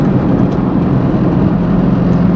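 A steady, droning engine rumble from inside a moving Tata Nano in sports mode in city traffic, continuous and fairly loud with no clear rise in pitch.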